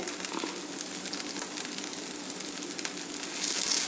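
Butter and oil sizzle steadily under a masala dosa on a hot pan, a dense, crackling hiss close by that swells slightly toward the end, with no one speaking.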